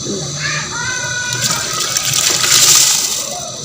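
Washed rice poured into a pot of yellow-colored water for zarda sweet rice, a close, steady rushing splash that swells toward the end, with a voice briefly audible at the start.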